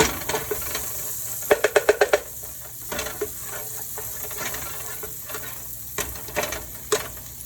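Shrimp and fresh garlic stirred in an oiled pan for shrimp tacos: a steady low sizzle broken by quick bursts of spatula scrapes and taps, including a rapid run of clicks early on.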